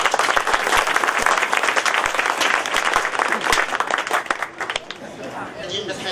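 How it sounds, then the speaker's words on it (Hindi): Sustained applause from an audience at a swearing-in for a market traders' association, dense steady clapping close by with crowd chatter mixed in, thinning toward the end. "आपकी भरपूर तालियां।"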